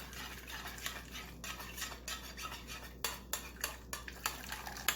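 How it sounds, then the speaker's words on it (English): Quiet scraping and clinking of a utensil stirring starch paste with boiling water in a pot, irregular strokes with sharp taps against the sides. "You stir it with boiling water."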